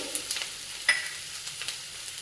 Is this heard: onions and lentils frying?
yes